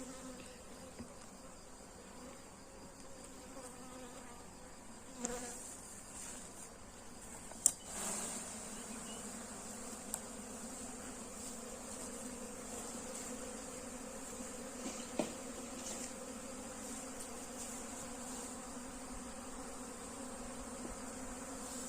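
Honeybees buzz steadily around a drone-laying hive outdoors, a continuous moderate hum that stays even throughout, with a few brief clicks and knocks breaking through.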